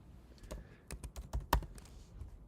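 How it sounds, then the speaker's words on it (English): Typing on a computer keyboard, with scattered sharp key clicks in an uneven rhythm, a few louder strikes standing out, close and alone with no talking. "Oops, I'm typing this in the chat."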